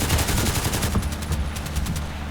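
Rapid pistol shots from a shooter video game, a quick string of sharp cracks about every tenth of a second, loud and close with no talk.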